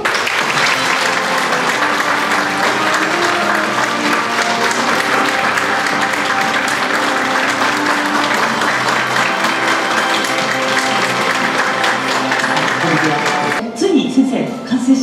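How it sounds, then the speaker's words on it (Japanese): Sustained, dense applause from an exhibition audience at Sunshine City Bunka Kaikan in Tokyo, welcoming the artist Yoshitaka Amano to his Final Fantasy art show; steady and loud for about thirteen seconds before it stops abruptly. "皆様大きな拍手でお迎えください"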